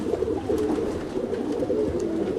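A roller pigeon, half Russian high flyer, gives soft, continuous low cooing up close, with a few faint higher chirps in the background.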